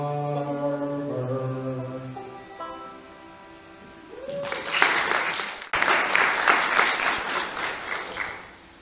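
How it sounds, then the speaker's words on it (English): An audience bursts into loud applause in a church gathering hall just after sung music ends, the clapping dense and sustained for several seconds with a brief dip before swelling again. "Being applauded before you speak is always interesting."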